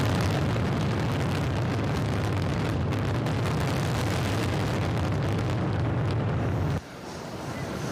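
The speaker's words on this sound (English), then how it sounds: "We like the big explosion at the end." A big explosion closes a riverfront fireworks show in Windsor, heard as a loud, sustained booming rumble with crackling bursts that drops away abruptly near the end, leaving a quieter tail.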